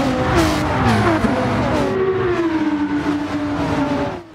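Group 3 race cars at Trial Mountain in Gran Turismo 7, engines revving loudly through gear changes, with several cars howling close together and pitch rising and falling as they accelerate.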